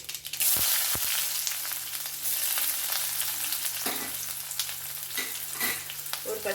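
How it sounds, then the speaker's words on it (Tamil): Mustard seeds frying in sesame oil in a kadai for tempering, giving a steady close sizzle with scattered crackles and pops throughout. "இப்போ கடாயில் நல்லெண்ணெய் விட்டுருக்கேன் கடுகு மாதிரி போட்டுக்கலாம் தாளிப்புக்கு"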